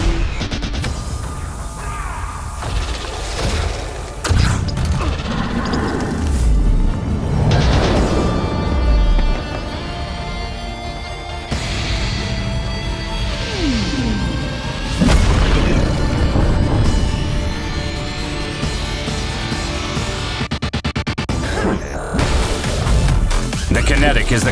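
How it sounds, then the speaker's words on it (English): A gravity-focused ether explosion from the Kinetic class in the Skyforge video game booms through a dense, layered stream of impacts, rumbles and crashes, with repeated heavy hits over a continuous loud background. "By focusing gravity, the Kinetic creates a powerful and devastating ether explosion."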